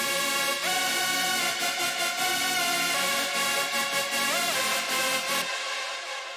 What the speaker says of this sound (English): And the chords sound like this.